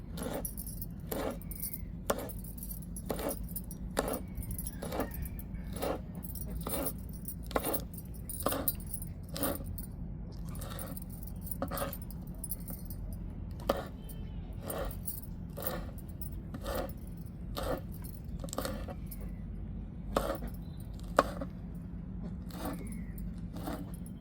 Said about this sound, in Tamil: வந்து நம்ம பொடிசு பொடிசாக கட் பண்ணிக்கிடுவோம்